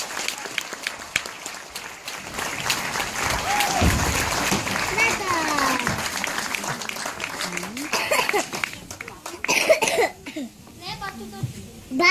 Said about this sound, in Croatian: Ohrabrimo ih pljeskom.